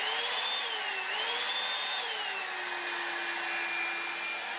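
A Revlon hair dryer with a volumizing brush head runs continuously close by, a steady airy whine whose pitch dips and shifts slightly as it is handled.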